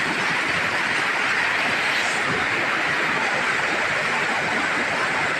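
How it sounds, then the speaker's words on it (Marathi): Continuous rushing roar of falling water, steady and loud with no breaks, like a nearby waterfall. "पाणी पण बरंच मोठं आहे कसलं पडते बघा"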